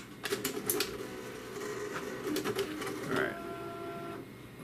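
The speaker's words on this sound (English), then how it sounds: "Turn the printer on." Apple StyleWriter 1500 inkjet printer powering on, close bursts of clicking and whirring mechanism with a short rising motor whine and tonal hum toward the end, faint and without talk.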